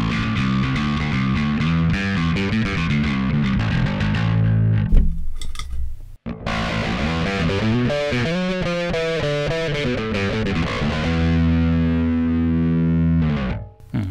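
Bass guitar played through a Harmonic Booster effect pedal, giving a distorted, midrange-heavy, guitar-like tone. Sustained riffs and chords play loudly and steadily with no talk, broken by a brief pause midway.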